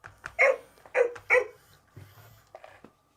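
A Hasbro Joy for All robotic companion pet dog gives a series of close, clear electronic barks and yips, three strong ones in quick succession followed by softer whimpering sounds.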